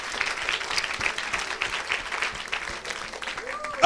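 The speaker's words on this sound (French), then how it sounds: "Somebody put beautifully your two hands together for Jesus." A church congregation claps and applauds in sustained, dense rhythm at close range during a worship service, with voices cheering beneath the clapping throughout.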